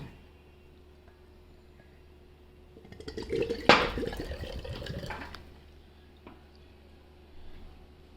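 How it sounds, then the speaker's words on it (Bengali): Coconut water poured from a green coconut, a short liquid splashing and trickling burst in the middle of an otherwise quiet room, fading back to near silence, with a faint knock afterward. "ডাবের আগে পানিটা বের করব, তারপর আমি শাঁসটা বের করব।"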